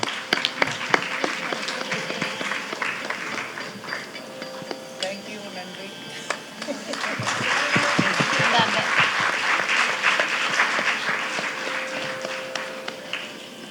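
Audience applause at a Salangai Pooja Bharatanatyam debut, acknowledging the accompanying mridangam, violin and flute players. The clapping runs steadily throughout and swells after the midpoint, while an announcer speaks over it.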